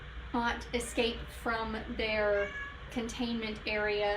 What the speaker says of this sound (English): you may hear them meowing in the background